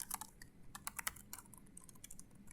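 Rapid clicking keystrokes on a computer keyboard arrive in quick irregular bursts with brief pauses between them, close and fairly quiet, with no voices.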